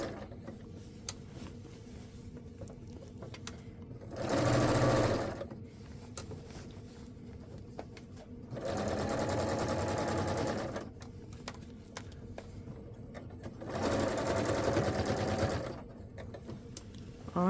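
A sewing machine stitches a facing to a dress in three bursts of steady whirring, each a few seconds long, separated by quieter pauses with light handling clicks, close and clear.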